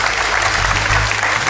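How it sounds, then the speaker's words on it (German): A German TV quiz show studio audience breaks into a dense burst of applause, loud and sustained across the whole moment with no pause. "Ich weiß nicht, warum man dafür Applaus bekommt."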